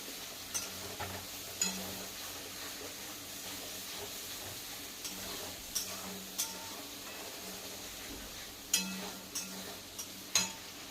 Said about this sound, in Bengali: ভালো করে ফ্রাই করে নেব।